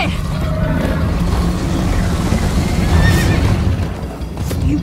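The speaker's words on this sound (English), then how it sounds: "First time on a horse here." Horse neighing while being ridden in the Minecraft Story Mode video game, a whinny amid dense, loud action noise and galloping rumble, with no talk.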